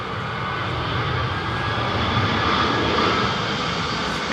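A British Airways airliner on approach to land at Heathrow in stormy wind gives a steady, broad engine roar with wind rush, holding even throughout at a moderate distance.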